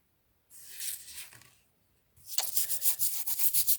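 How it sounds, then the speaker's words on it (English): A rock art stone is scrubbed with sand and Windex in two close rasping bouts, a short soft rub followed by a longer, louder run of rhythmic gritty strokes. "I'm going to clean this stone with just some sand and"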